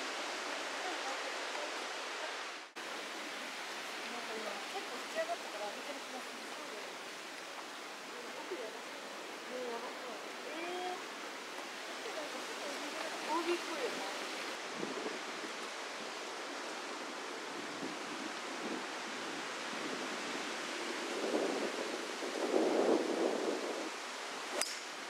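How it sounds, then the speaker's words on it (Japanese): Strong wind roars in a steady, broad rush across an outdoor spot, with gusty swells throughout and faint voices now and then underneath. "風がすごいね"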